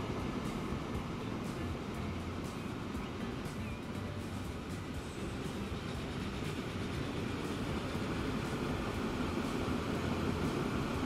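A train runs in Transport Fever 2, a faint, steady rolling rumble with broad hiss that continues without pause throughout.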